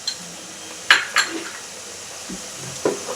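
Onions and chillies tipped into a hot pan and stirred while cooking dry prawns with banana flower in a traditional Andhra curry: a soft sizzle runs underneath sharp clinks and scrapes of a spoon against the pan, heard close up.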